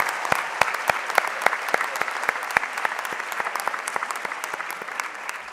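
Audience applause at a university commencement ceremony, steady broadband clapping from a large crowd with sharp individual claps standing out, holding at a fairly even level and easing slightly toward the end, with no talk.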